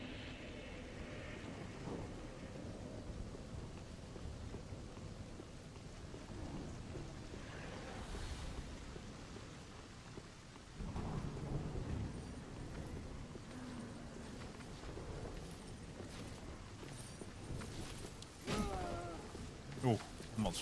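Lightning attack thunder in the Dark Souls 3 Archthrones mod video game: a low, steady storm-like rumble with a couple of louder crackling bursts near the middle and end.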